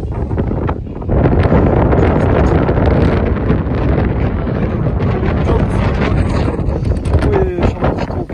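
Strong gusting wind on a mountain summit in Kyrgyzstan roars loudly and continuously into the microphone, buffeting it throughout with a steady rumbling rush.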